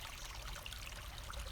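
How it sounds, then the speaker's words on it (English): Water trickling and running steadily out of dry ground near a well house on a hot day, a soft continuous flowing wash with no talk over it. "You can see there that there's a nice run of water coming out of there even to this day."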